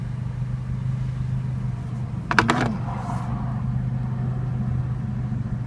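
A Honda car engine, newly fitted with a Y8 intake manifold, idles with a steady low hum, interrupted midway by a brief clattering burst of mechanical noise before settling back.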